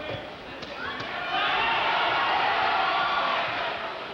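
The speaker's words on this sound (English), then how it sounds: "Crowd reacting every time Boom Boom Mancini lands" A boxing crowd roars during Ray Mancini's fight with George Feeney, a dense arena din that swells and holds loud and steady, with a couple of faint thuds early on.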